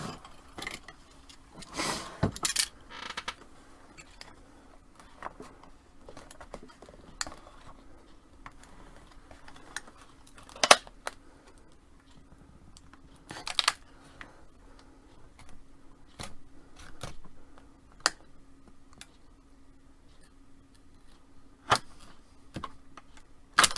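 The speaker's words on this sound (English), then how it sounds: "Let me try a razor and I'll try to cut it free." A razor blade scrapes and cuts at cured epoxy resin sword handle scales, making scattered sharp clicks and scratchy ticks at an irregular pace, fairly close, with no talking.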